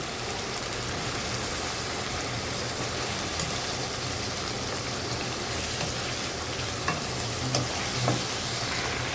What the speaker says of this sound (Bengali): আমি 2 পিঠ সুন্দর করে উল্টায় উল্টায় ভেজে নেওয়ার চেষ্টা করতেছি।